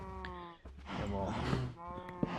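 Cows mooing in a blocky survival video game, a couple of drawn-out bovine calls rising and falling mid-range, with someone talking over parts of it.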